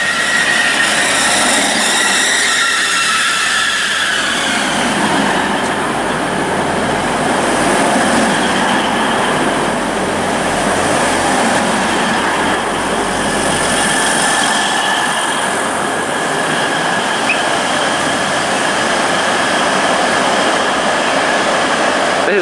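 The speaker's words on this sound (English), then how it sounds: "Now arriving in is the GWR green class 180" A GWR green class 180 diesel unit pulls into Reading station, a loud, sustained rumble and hiss with squealing wheels and rail clatter close by throughout.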